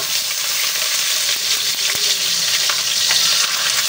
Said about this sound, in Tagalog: Prito-prito lang po natin muna yung ating tilapia.